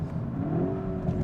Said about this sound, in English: when you drop your gears, it's just pure engine noise